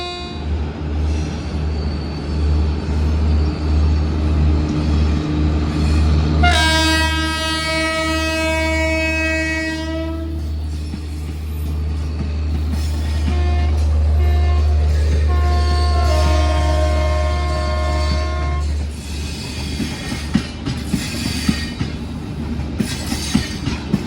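A Shatabdi Express passes on the parallel Delhi–Mumbai line, its horn sounding in a long blast and then a shorter one over a steady, loud rolling rumble of the train.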